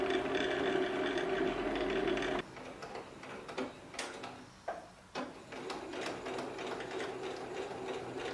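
A sewing machine stitches trousers indoors, a close, rapid mechanical whirr that stops after about two seconds, followed by scattered clicks and handling knocks.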